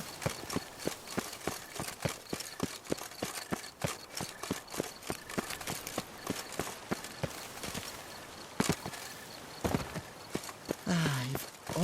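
Horse hooves clip-clopping at a steady trot, crisp evenly spaced clops close by for the whole stretch, with a brief whinny-like sound near the end.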